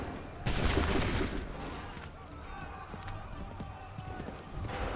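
A musket volley erupts in the Assassin's Creed 3 game, a dense crackling burst of gunfire followed by scattered shots, hoofbeats and battlefield noise, with voices faintly underneath.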